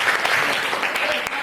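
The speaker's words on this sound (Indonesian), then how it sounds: "tepuk tangan untuk kalian semua" A burst of steady clapping from a group of students in a classroom, dense and continuous, fairly close, with no voices over it.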